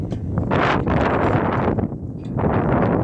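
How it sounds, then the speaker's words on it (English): Strong wind gusts buffet the microphone in loud rumbling bursts, with brief lulls between them. "It's kind of windy out here, so it's kind of hard to hear you"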